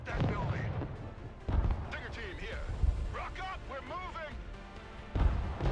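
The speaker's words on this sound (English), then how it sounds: "artillery's annoying" Artillery in the strategy game Broken Arrow lands in several heavy booms spaced a second or two apart, while a voice keeps talking over and between the impacts.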